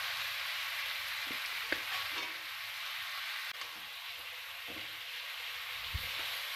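Chicken curry sautés in a pan in Bengali bhuna style, a low, even hiss of frying with a few sparse scrapes and knocks of a spoon, quiet and unbroken by speech.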